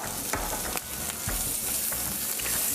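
Mustard seeds, cumin, asafoetida, curry leaves, ginger and green chili hitting hot oil in a tempering, loud continuous sizzle with crackling pops and stirring scrapes close by, no talk.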